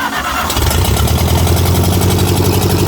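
A 1953 Ferguson TO-30 tractor engine cranks and catches, then runs loud and close with a steady rapid chugging idle.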